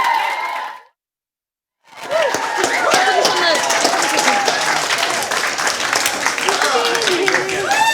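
An audience at a secondary school pitch session bursts into sustained applause after a short silence, with a dense, steady patter of many hands clapping and a few cheers mixed in.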